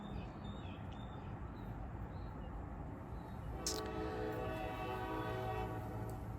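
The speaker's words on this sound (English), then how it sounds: "I rarely hear a train, so it's interesting that there's a train passing through right now." A train passes at a distance with a low steady rumble, then its horn sounds a long sustained blast over the continuing rolling noise, heard faintly in a quiet indoor space.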